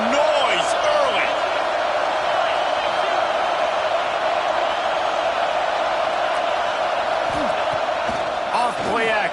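Stadium crowd at a Georgia vs Texas college football game, a loud steady roar of cheering and noise throughout with scattered whoops and shouts, close and continuous.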